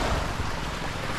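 Waves roll in at a seashore, with wind buffeting the microphone, giving a loud, close, continuous wash of surf and no talking.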